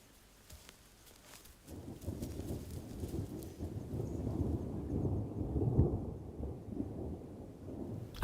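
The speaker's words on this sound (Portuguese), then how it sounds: "As chuvas são abundantes. Agora chove todo dia em Moro." Thunder rolls over the Serengeti during rain. It starts quiet, then swells into a long, deep rumble over steady rainfall.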